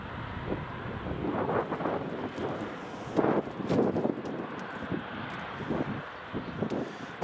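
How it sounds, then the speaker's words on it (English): An Airbus A320neo coming in at Edinburgh Airport makes a distant jet rumble, buffeted by gusty wind noise on the microphone that comes in uneven swells. "So this next A320 Neo that's coming in"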